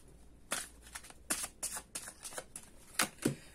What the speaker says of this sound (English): So let's keep shuffling and see what else.